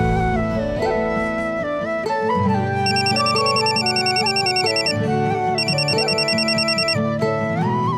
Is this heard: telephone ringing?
yes